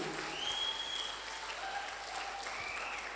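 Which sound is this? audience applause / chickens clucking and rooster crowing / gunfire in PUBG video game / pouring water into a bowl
audience applause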